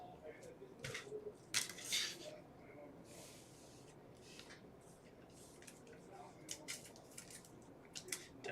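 Upper Deck hockey card packs being torn open, with crinkly foil rips and rustling card handling in short bursts, a couple of louder tears near the start and more scattered crackles later, fairly close.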